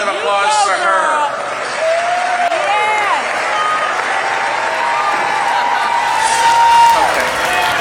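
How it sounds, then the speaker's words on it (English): Audience applause from a crowd at an evening speaking event, a steady wash of clapping and cheering under a voice talking over it throughout. "What about another round of applause for her?"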